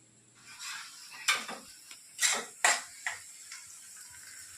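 Tomatoes, capsicum and onion fried in oil for pav bhaji, with a soft sizzle under several sharp clinks and scrapes of a utensil against the pan, close, no talking.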